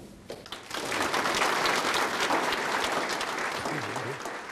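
An audience breaks into vigorous applause welcoming guest Lee Soon-jae, starting with a few scattered claps and swelling into a full, steady wave of clapping that holds to the end.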